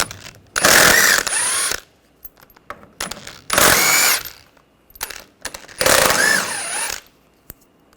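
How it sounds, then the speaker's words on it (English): A ratchet fitted with a 13mm socket backs bolts out during a radiator and condenser fan removal on an Audi A4. Three loud, close bursts of rapid clicking each run about a second, separated by short quiet gaps. "We're going to take these bolts out. Use a 13mm socket."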